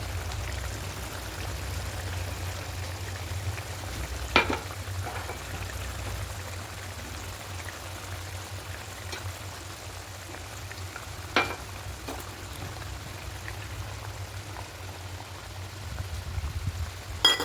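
Eggs fry in a pan with a continuous close hiss and sizzle, steady in level, punctuated by a few faint taps and pops.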